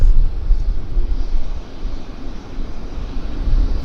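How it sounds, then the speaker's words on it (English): A Delta Connection Embraer regional jet arrives at Vancouver Airport inbound from Seattle, its engines a loud, broad rumble that dips briefly in the middle before swelling again. "This is our Seattle inbound Embraer from Delta Express."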